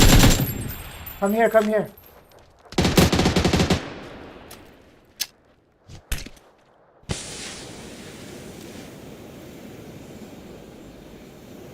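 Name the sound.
gunfire in PUBG video game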